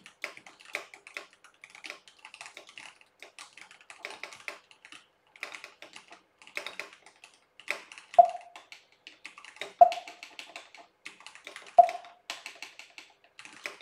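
Steady typing on a computer keyboard in a French typing-practice program, rapid clicky keystrokes in uneven bursts with short pauses and a few sharper single key hits, fairly close and alone with no talk.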